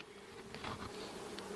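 Honey bees hover around a hive during a nucleus colony transfer, a faint, close buzzing of many wings with brief louder passes.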